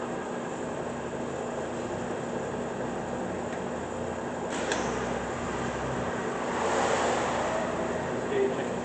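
A 15-inch by 30-inch Leblond Regal inch/metric engine lathe running at 132 RPM, a steady, even hum and whir with a faint hiss that swells slightly toward the end, with no talk over it.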